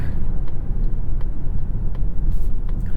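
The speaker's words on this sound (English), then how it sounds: "Feeling those shifts. Hearing that little inline four work." The inline-four engine of a 2025 Mazda CX-70 PHEV hums with a steady low rumble, heard from inside the cabin while the SUV accelerates through its shifts.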